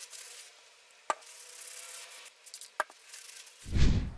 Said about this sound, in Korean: 아세톤과 알코올로 한 번 더 닦아줍니다.